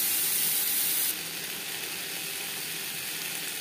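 Pointed gourd frying in oil with turmeric and salt, a steady hissing sizzle heard close up, louder at first and then settling into a softer, even crackle.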